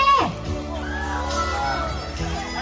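A lively crowd at a live TV variety show whoops and cheers loudly over music, with excited yells rising and falling throughout.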